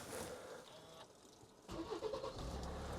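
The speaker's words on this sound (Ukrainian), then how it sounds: "Зараз при вас запускаю даний автомобіль." A 2014 Hyundai Santa Fe Grand 2.2 CRDi diesel engine cranks and catches, then settles into a steady low idle after a quieter start.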